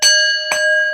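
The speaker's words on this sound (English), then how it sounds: "Let's ring the bell." A bell is struck twice, a bright ringing tone with a second strike about half a second after the first, loud and close, the long sustained ring carrying through with no one talking.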